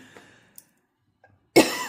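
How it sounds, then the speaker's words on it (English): A single sharp, close cough bursts out after near silence, preceded by a few faint small sounds. "I woke up coughing."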